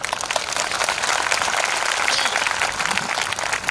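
Dense clapping from a church congregation, a sustained bright patter of many hands at an even level with no break.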